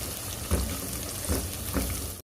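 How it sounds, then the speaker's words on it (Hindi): Ginger garlic paste fries in a pot for achari chicken, giving a steady sizzle with three soft stirring scrapes before it stops abruptly. "अब हम इसे थोड़ा सा भूनेंगे और मिक्स करेंगे।"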